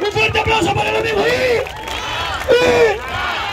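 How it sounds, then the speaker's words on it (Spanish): A crowd cheers and yells for a young man after a public love declaration, loud whoops and shouted voices rising in two bursts with a brief dip between. "¡Un fuerte aplauso para el amigo!"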